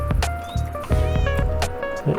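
A Minecraft cat gives several short, clear meows in quick succession, close and fairly loud, with some faint clicks in between.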